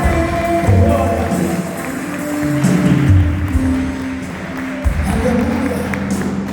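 A church congregation claps together in a sustained wash of applause during a Portuguese-language service, with music and voices mixed in beneath it.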